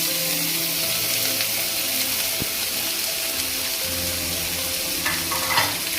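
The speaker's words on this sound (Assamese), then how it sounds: "এতিয়া মই কলডিলখিনি ঢালি দিম।" Banana flower frying in hot oil with bay leaves and dried chilli for an Assamese dish, a steady dense sizzle throughout with occasional stirring scrapes and a brief clack near the middle, close and moderately loud, no voices.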